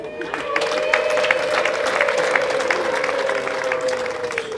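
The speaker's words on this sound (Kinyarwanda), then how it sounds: "Umwongera amashyi." A seated audience claps steadily throughout, with a sustained vocal tone held over the applause.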